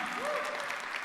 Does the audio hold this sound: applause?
yes